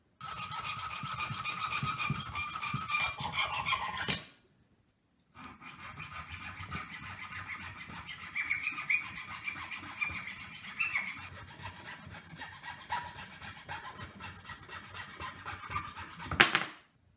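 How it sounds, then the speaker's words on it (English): A metal nail being sharpened to a point with a file for a steampunk push spike, long sustained rasping strokes close by, a short pause, then more continuous grinding filing ending in a sharp scrape. "I'm going to sharpen this nail so it's a little bit sharper and more pointy."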